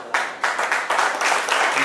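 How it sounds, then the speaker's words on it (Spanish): Rhythmic applause at an awards night, coming in regular strong pulses like a crowd clapping in unison, fairly close and loud. "yo le doy un fuerte aplauso"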